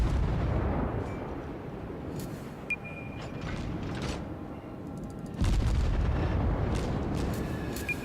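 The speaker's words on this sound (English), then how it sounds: "I'm double clicking with my mouse, which fires all my gun batteries." Warship gun batteries firing in World of Warships, heavy booming naval salvos with rumbling low-end, a dull blast near the start and a louder one more than halfway through over steady background rumble.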